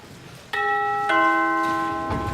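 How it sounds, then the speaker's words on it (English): A bell at a gate is struck twice in close succession, each ring a bright metallic tone that sustains and slowly fades, loud and near with little else around it. "Who rang that bell?"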